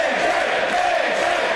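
A wrestling arena crowd roars steadily during a match, a dense sustained wall of cheering and yelling with no break.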